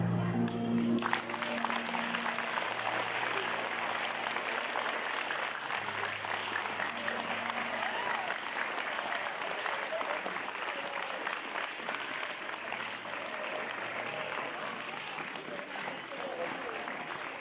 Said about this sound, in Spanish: Fuertes aplausos nuevamente